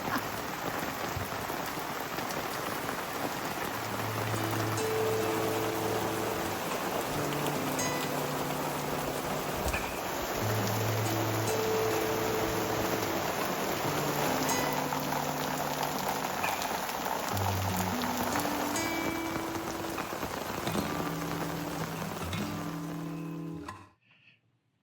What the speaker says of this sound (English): So this is day 3 of rain, no end in sight